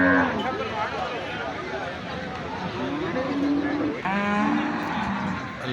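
Buffaloes at a busy livestock market low and moo repeatedly, several overlapping calls close by, with a crowd murmuring and people talking all around them.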